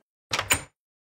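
A door opens in a Minecraft-style horror game animation, a short two-part creak and clunk that stands alone against silence.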